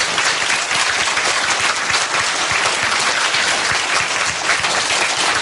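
A congregation at a Christmas Eve sacred music service applauds in a dense, continuous burst of clapping that stays steady and fairly close throughout.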